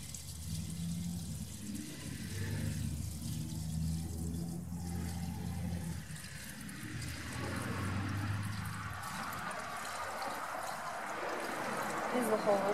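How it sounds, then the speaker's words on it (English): Sugar water poured into a DIY top hive feeder, a steady liquid trickle and splash that grows fuller and brighter toward the end as the feeder nears overflowing, with people talking quietly nearby. "I'm going to fill this with sugar water."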